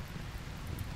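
Steady rain falls in the RimWorld video game, a dense, low, even wash of rainfall noise without distinct drops, soft and continuous throughout.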